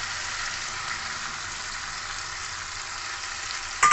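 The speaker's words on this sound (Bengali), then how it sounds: "এবার তেল ছাড়া অবধি এটা আমি ভালো করে কষে নেব।" Spice paste and potatoes frying in oil for Odisha-style aloo dum, a loud steady close sizzle with soft stirring underneath, continuous and alone, ending in a brief sharper clatter.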